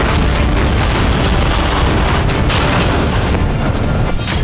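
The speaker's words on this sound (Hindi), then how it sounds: "एंटी टैंक माइन के धमाके" Dense, continuous rumbling blasts and booms of anti-tank mine explosions in the Russia-Ukraine war, loud and sustained throughout, with heavy low-end thuds blending into a constant roar of explosions.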